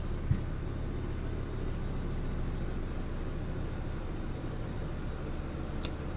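Low, steady engine rumble of a simulated Antonov An-2 radial-engine biplane taxiing and turning on the spot, a continuous muted drone with no voices.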